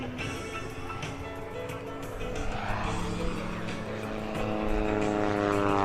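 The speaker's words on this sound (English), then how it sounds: "Kent Pietsch executing the barnstormer aileron roll right at Airshow Center" A propeller airplane's engine roars loud and steady, its pitch and growl shifting and swelling as it performs an aerobatic aileron roll overhead at an airshow.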